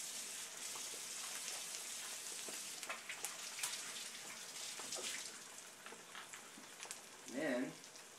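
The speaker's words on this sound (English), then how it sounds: "The eggs are audible. Here the sizzling." Eggs sizzling in a hot frying pan, a steady crackling hiss with small pops and a brief clatter near the end.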